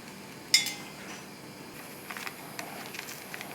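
A spoon clinks once against a bowl while salt, cocoa powder, coffee and baking powder are added for mocha brownie batter, followed by faint soft scraping and small taps, close and quiet.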